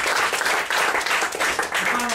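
A crowd claps in a steady, dense round of applause, close and fairly loud, with a few faint voices mixed in.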